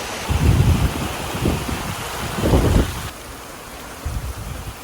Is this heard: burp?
no